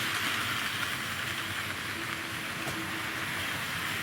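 A Hornby-Dublo 2230 Class 20 model locomotive pulls a long rake of wagons along a Tri-ang layout's main line, giving a steady, close, continuous whirring rumble with a faint metallic hiss and no voices.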